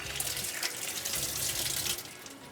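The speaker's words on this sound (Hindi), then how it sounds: "हाथ धो लेते हैं।" A kitchen tap runs steadily into a sink as hands are washed beneath it, a close continuous splashing rush that eases off slightly near the end.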